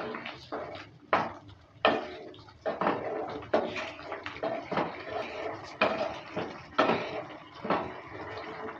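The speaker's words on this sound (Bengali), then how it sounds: "ধনেপাতা কুচিটা দেওয়ার পর ভালো করে আবারও নেড়ে চেড়ে নিচ্ছে।" Potato, pea, paneer and tomato curry stirred in a pan with coriander leaves, a spoon scraping and knocking against metal in irregular strokes, close and unaccompanied by talk.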